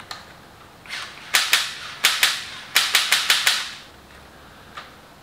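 Assembled toy SCAR-L gun fired several times in quick succession: sharp, loud snapping clicks in small clusters, two, then two, then a rapid run of five, with one fainter click after, close up and with no talking.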